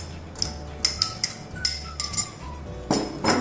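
Paneer sautéed with dry oregano and chili flakes in a pan, with a spatula tapping and clinking against the pan in irregular, fairly crisp knocks and scrapes.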